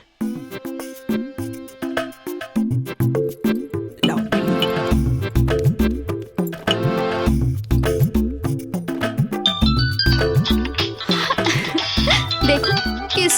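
A phone ringing in a Hindi romantic film plays a melodic ringtone tune with repeated notes and chimes, steady and fairly loud for several seconds, alone with no talk.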